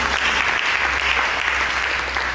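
A church congregation during a sermon claps steadily in a brief, full round of applause, loud and close, with a low steady hum underneath and no voices standing out.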